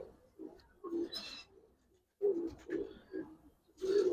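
Giribaz pigeons cooing close by in short repeated throaty bursts, with pauses between phrases and light scratching in the background.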